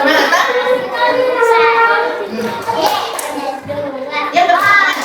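Children in a classroom do a rhythmic spirit clap (tepuk semangat) as an icebreaker, with patterned hand claps mixed with lively young voices chanting along.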